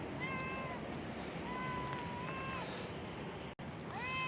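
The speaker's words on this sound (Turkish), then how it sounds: "Bakın anne kedi de geldi." A mother cat meows repeatedly nearby, several drawn-out plaintive cries spaced across a steady background hiss.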